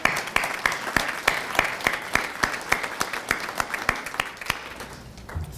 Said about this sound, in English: So he deserves a round of applause.